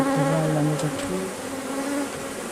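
Honeybees drone around an opened beehive at a summer honey harvest, a close and continuous buzz with pitch glides as individual bees fly past.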